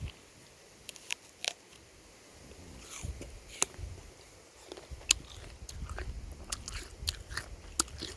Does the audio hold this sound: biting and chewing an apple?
yes